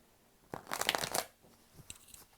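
A quick burst of tarot cards being shuffled, a riffling flutter lasting under a second, followed by a couple of soft taps and handling noises.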